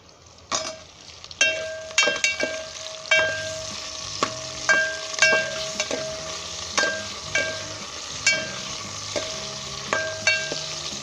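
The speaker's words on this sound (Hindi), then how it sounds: "अब हम इसके अंदर बोनलेस चिकन डालेंगे।" Sizzling of onion, ginger and garlic frying in a pan, with regular stirring clinks and scrapes of a utensil against metal repeating every second or so, close and fairly loud.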